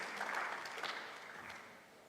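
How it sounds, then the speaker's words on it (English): Audience applause at a fintech summit in Accra for a fireside-chat moderator, a broad wash of steady clapping that stays fairly even before easing slightly toward the end. "Let's give Akosua a round of applause, ladies and gentlemen"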